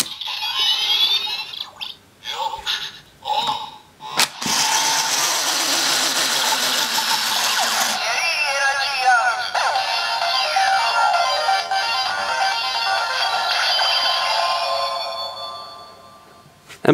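A Kamen Rider Gaim cherry Lock Seed candy toy from Series 6 plays its loud electronic attaching and activation sounds: a burst of short clicks and chirps, then a sustained noisy blast and warbling synthesized tones that fade out, with no talking.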